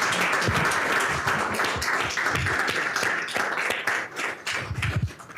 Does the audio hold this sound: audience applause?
yes